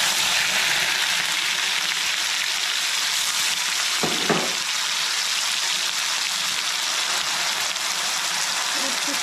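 Onion frying in hot oil for a home-cooked meal, a steady dense sizzle with a brief stir or clatter midway and soft speech underneath.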